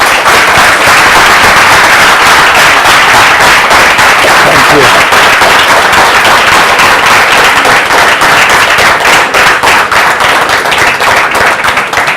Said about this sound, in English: Everyone, please give a big round of applause for our speakers.